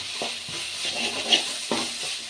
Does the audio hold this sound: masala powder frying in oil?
yes